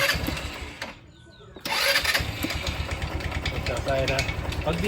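A motorcycle engine with a D-type carburetor cranks, goes briefly quiet, then catches and settles into a close, loud, steady idle with a rapid pulsing beat.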